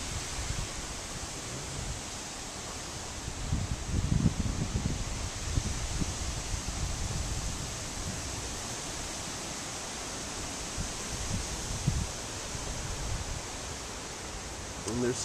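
Strong wind in Eagle River, Alaska, under high wind warnings, a steady broadband roar of gusts through rustling leaves, with slightly stronger swells near the start and midway; no talk.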